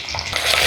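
Shallots sizzle steadily in a hot pan of oil, a close, bright frying hiss that swells slightly as they are stirred, with no voices.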